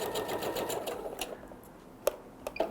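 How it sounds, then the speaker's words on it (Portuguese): A domestic sewing machine runs in a quick, steady stitching rhythm while sewing a seam on a patchwork block, then stops, leaving a few sharp clicks and handling noises close by. "eu fiz a primeira costura, agora eu volto e passo outra costura aqui"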